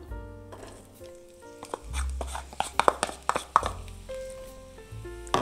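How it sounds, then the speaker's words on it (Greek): Two finely chopped onions sautéing in heated oil for a Greek meat pie filling, with a steady sizzle broken by a run of clattering stirs and pan knocks, no talk. "Το λαδάκι μας έχει ζεσταθεί και τώρα θα ρίξουμε 2 κρεμμύδια ψιλοκομμένα"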